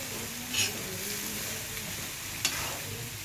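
Vegetables fry in reused cooking oil that earlier fried rice balls, a soft continuous sizzle broken by two sharp utensil clicks, close by and without speech.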